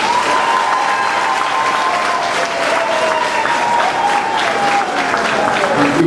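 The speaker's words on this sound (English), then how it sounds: "we give him another round of applause" Steady audience applause fills a hall at a political party gathering, loud and continuous for several seconds with crowd noise and voices mixed in.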